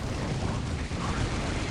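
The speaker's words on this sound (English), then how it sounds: "Explosions." Explosions in the Warhammer 40,000 strategy game Dawn of War, Thousand Sons against Chaos Space Marines, forming a dense, continuous rumbling roar of blasts with no clear gaps over nearly two seconds.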